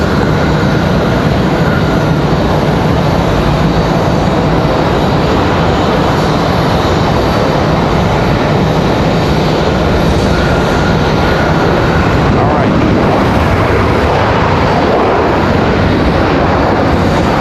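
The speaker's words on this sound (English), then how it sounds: "Delta departure was Delta 2600 off to Atlanta, Georgia at 737-900." Delta Boeing 737-900 jet departing Raleigh Durham airport, a loud, sustained, wide engine roar filling the whole stretch without a break and no voices.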